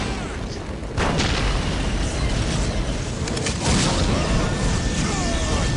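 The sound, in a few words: Basilisk artillery shooting in video game Dawn of War Soulstorm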